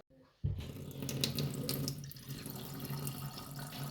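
A kitchen tap with very weak water pressure runs in a home during a power outage, a steady splashing stream that starts abruptly after a brief silence and continues evenly and close by.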